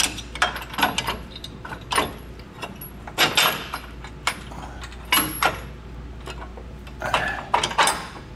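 A metal bolt with a washer slid through a mounting hole on an EcoHitch hidden front-mount trailer hitch receiver, giving scattered metallic scrapes, clinks and rattles in irregular bursts, close and moderately loud, with no talking.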